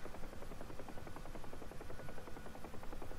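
A helicopter flies in the DCS flight simulator, its rotor chopping in a fast, steady pulse under a dense, loud turbine whine that holds constant throughout.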